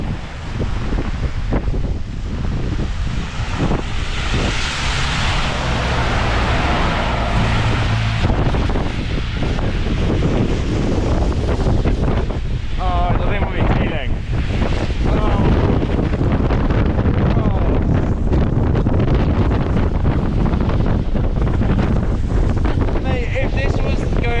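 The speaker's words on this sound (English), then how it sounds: "It's so windy." Strong gusting wind roars and buffets the microphone continuously on a bridge to Krk, loud and unbroken throughout.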